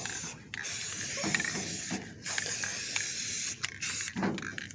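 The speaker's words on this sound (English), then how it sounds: "So spraying these with the blue." Blue spray paint hisses from an aerosol can onto Honda engine parts in several close bursts separated by short pauses, with faint rattles between them.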